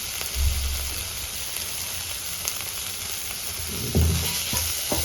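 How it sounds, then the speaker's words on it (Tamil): Tomatoes sauté in a pan for Tamil-style pepper chicken (chicken milagu varuval), with a soft, steady sizzle and a couple of dull stirring knocks against the pan. "தக்காளி நல்லா வெந்து வர்ற அளவுக்கு நல்லா வணக்கி விடணும்"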